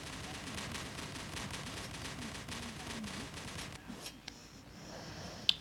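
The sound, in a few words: pilot ejection explosion in a mech video game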